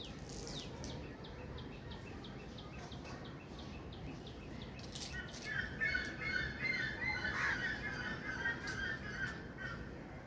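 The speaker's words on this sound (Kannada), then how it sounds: "ಪಕ್ಷಿಗಳ ಕೂಗು ಅದು" Birds squawk and chirp outdoors at a distance, with a few crow-like caws and a chattering call rising midway over faint background hum.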